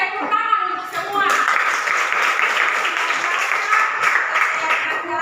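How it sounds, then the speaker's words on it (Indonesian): A class of students standing together gives a sustained round of applause, loud and close, following a brief stretch of talk at the start. "Tepuk tangan untuk semua."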